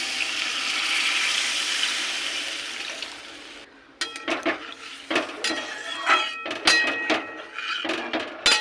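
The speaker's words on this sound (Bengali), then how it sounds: "এবার দিয়ে দেবো জল" Water poured into a pan of fried spices for an egg and potato curry, a rushing pour at first, then clinks and scrapes of the pan and utensil, close by.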